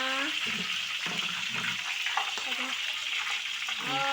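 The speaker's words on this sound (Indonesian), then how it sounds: "Tumis bawang merah dan bawang putihnya" Shallots and garlic sauté in hot oil with a steady bright sizzle throughout, while someone talks over the cooking in a home kitchen.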